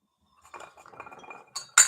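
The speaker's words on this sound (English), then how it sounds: "Now I'm taking a glass of water" A drinking glass of water is handled indoors, giving soft rustling and light contact sounds followed by two bright, sharp glass clinks near the end, close and fairly clear with no talking.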